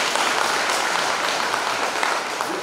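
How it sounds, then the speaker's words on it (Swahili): A congregation at a Holy Mass for a project blessing breaks into loud, dense applause. The clapping holds at an even level throughout, with no speech over it. "Tuwapongeze kwa makofi."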